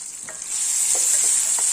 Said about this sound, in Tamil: இந்த காய்கறி கொஞ்சம் வதங்கிட்டு பாருங்க